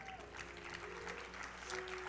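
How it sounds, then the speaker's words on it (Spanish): Church congregation applauding during a Spanish-language worship service, a quiet, steady patter of clapping with a sustained tone and faint voices behind it. "Denle un aplauso al Señor."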